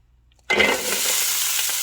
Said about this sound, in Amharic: እንደዚህ ያያችሁ ድምፁ ስትሰሙ ሽንኩርቱ ሪሊዝ ያደርጋል ማለት ነው ቃናውን።